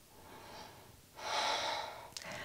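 Deep, slow breaths during a seated yoga twist in a vinyasa detox session, a soft airy inhale followed by a fuller, louder exhale, close and alone with no talk.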